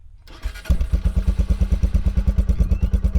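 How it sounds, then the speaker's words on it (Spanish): Italika V200 Adventure motorcycle with a dual-outlet exhaust starting up: a brief starter whir, then the engine catches into a loud, close, evenly pulsing idle. "Esta motocicleta, al momento de que ustedes lo enciendan, van a escuchar un sonido muy suave y muy bonito."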